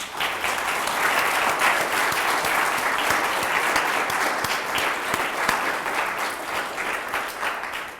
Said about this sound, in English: let us give a warm round of applause to our very distinguished panelists